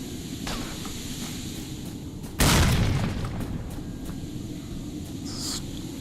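A grenade explosion in STALKER: Shadow of Chernobyl, a single loud broadband boom that rings out and decays over about a second above steady game ambience.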